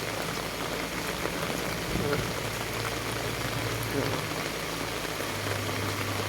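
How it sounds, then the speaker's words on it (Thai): Steady rain falling on someone walking outdoors, a dense, even hiss of drops spreading across surfaces, with a low hum underneath and no voices. "ฝนตกเดินตะลุยฝนนะฮะ"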